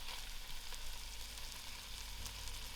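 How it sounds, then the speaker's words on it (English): Vegetables and ginger frying in a pan on very low heat for a vegetable korma, a soft, steady sizzle that stays faint and even the whole time, with no voices. "These veggies have to fry out properly"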